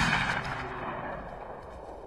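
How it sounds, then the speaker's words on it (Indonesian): A single AK-47 gunshot in a film, a sharp loud blast at the start that decays into a rumbling echoing tail over about two seconds. "Dengan cepat, AK-47 Graham menembus perut John."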